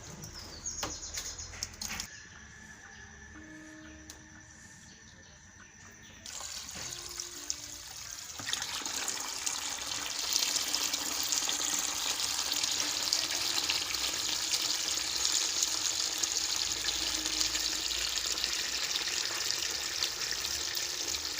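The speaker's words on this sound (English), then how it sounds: "now it's time to open fresh water for them" Fresh water starts running into a tank of juvenile catfish after a few seconds and then flows steadily, a continuous rushing trickle with faint bird chirps in the background.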